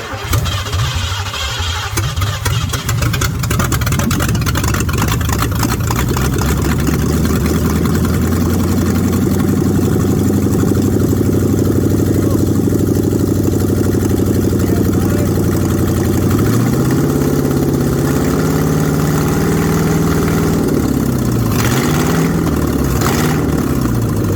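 A Ford Mustang engine, its throttle recently loosened after sticking, starts and settles into a loud, steady idle close by, with the pitch wavering and rising briefly toward the end.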